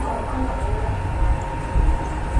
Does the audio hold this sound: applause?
no